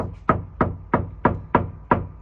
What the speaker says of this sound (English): Hear that knock? Sounds vacant.